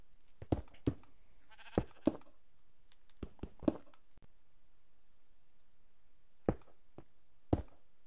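A Minecraft sheep bleats in short, scattered bursts, a few quick bleats clustered together and then spaced apart by quiet gaps, with faint soft clicks in between.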